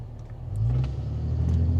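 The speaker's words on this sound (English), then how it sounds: "if you can hear that next to me, that's a 3rd gen Cummins" A deep diesel engine of a third-generation Cummins pickup truck rumbles nearby, its low drone building in loudness over a couple of seconds as it revs up.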